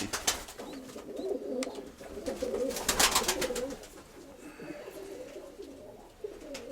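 Domestic pigeons coo in a loft, with low rolling calls repeating close by through the whole stretch, mixed with wing flutters and faint background voices.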